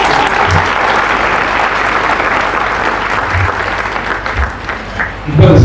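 Loud applause from a crowd at a ceremony honouring government school CBSE toppers, a dense burst of many hands clapping close by, steady throughout with a few low thumps and a louder swell at the very end.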